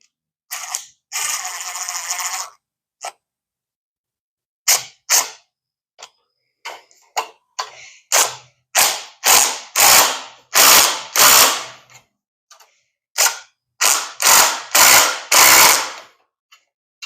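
Close, sharp ratchet clicks tighten a part on a log splitter, coming in quick bursts of strokes separated by short pauses, with no voices.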